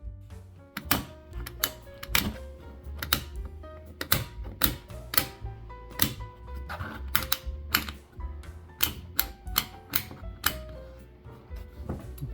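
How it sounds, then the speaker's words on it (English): A Samsonite luggage combination lock dial being turned clicks and clacks in a steady series of sharp, close mechanical taps with short gaps between them, with no voices. "And now you simply set the combination to what you want."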